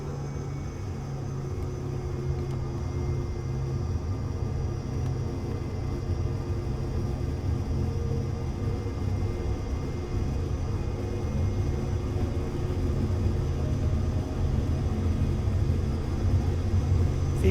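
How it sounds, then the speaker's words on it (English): Simulated jet engine of a Cirrus Vision Jet G2 in Microsoft Flight Simulator during a takeoff roll on a short runway, a steady low rumble and whine that builds gradually and continuously with no talk. "I'm going to speed up the airplane with the brake on."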